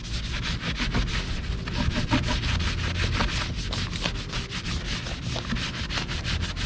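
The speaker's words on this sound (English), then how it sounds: "Just some light scrubbing." A brush scrubs a Gram Lights 57DR bronze wheel on a Honda Civic EG track car with quick, rhythmic back-and-forth bristle strokes, close and continuous with no talking.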